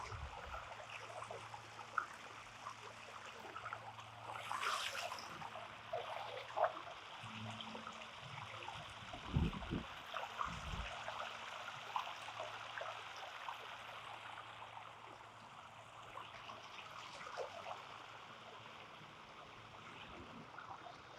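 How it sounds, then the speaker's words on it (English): A stream or small waterfall runs steadily outdoors in a grassy spot, its continuous trickling rush close by, with a few brief louder splashes and gurgles rising out of the flow. "This moving water."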